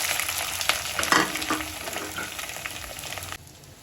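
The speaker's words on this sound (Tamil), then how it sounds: "வெங்காயத்தை நல்லா வதக்கிக்கோங்க" Small onions with curry leaves and fried urad dal sizzle steadily in hot oil, with scraping stirs near the start and a sudden quieter patch of sizzle at the end.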